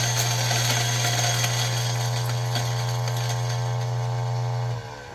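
A Ceado E6P coffee grinder runs with a loud, steady motor hum and a bright buzzing whine, holding constant before winding down near the end.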